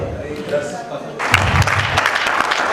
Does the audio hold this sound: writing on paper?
no